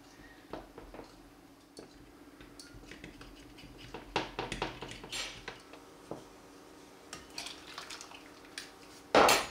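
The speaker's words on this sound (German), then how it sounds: "Und natürlich wieder alles schön durchrühren, damit die Milch nicht anbrennt." A spoon stirs milk in a cooking pot, scraping and clinking against the metal in irregular strokes, with a louder knock of cookware near the end; no one speaks.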